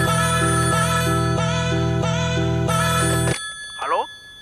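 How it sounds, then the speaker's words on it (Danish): A telephone rings in repeated electronic trills within a song, loud and steady for several bursts, then cuts off abruptly into a brief quiet pause. "Jeg tror vi ringer opp Bob D og sjekker"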